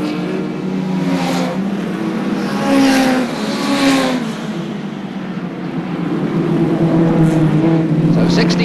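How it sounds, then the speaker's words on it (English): Hot rod racing cars at Ipswich in 1978 roar as they speed past, their engines rising and falling in pitch, while a commentator talks over the noise the whole time. "now closing up fast behind him in second place, Chris Gautry."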